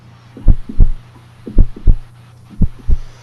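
Heartbeat sound effect for a tabletop role-playing game, three loud close pairs of deep thumps in a slow lub-dub rhythm over a low hum.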